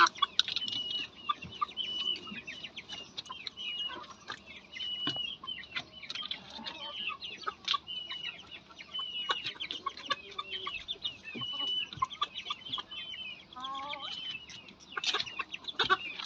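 Young Indian Shamo chicks cluck and peep softly in a quiet setting, scattered faint calls and rustling spread over a steady low background, with no voices.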